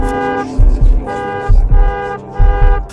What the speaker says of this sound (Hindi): आते ही कार ने जोर से हॉर्न दिया